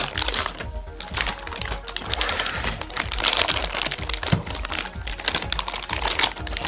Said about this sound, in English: let's get this out of the wrapper and see what this card is all about.